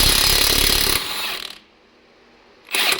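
Very tight lug nuts being loosened on a cheap old truck wheel: a loud, close mechanical rattling burst, a pause of near silence, then the rattling starts again.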